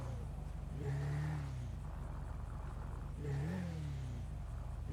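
A car drives in GTA V, its engine humming steadily and swelling into two brief revs, fairly quiet and continuous, with no talk.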